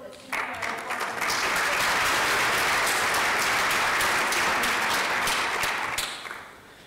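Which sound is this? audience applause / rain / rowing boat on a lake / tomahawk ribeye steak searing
audience applause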